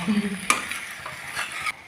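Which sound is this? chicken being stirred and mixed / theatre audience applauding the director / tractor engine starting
chicken being stirred and mixed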